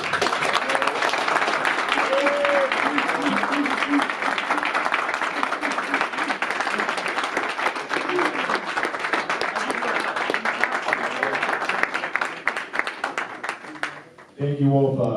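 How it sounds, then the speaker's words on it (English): An audience at a men's mental health awareness event claps and cheers in sustained applause for about fourteen seconds, then it cuts off abruptly as the room settles. "give a round of applause for this brother"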